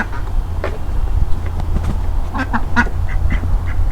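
A duckling quacks in short, repeated calls at close range on a farm, irregular and bright, over a low rumbling background.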